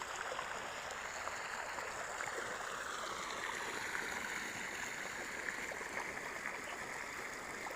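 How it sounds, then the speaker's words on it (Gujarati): Water from a well rushing and gurgling steadily, a continuous close flow like water pouring out of a pipe into a channel. "કૂવામાંથી પાણી આવે."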